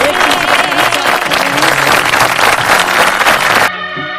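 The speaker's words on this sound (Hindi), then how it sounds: "जोरदार तालियों से स्वागत" An audience at an International Women's Day gathering claps loudly and steadily for nearly four seconds, the dense applause close and filling the room before it cuts off abruptly into a tonal sound.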